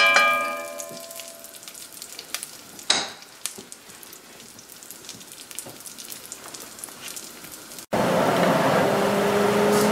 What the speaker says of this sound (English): So I'm going to toast these in the lard until they become brown around the edges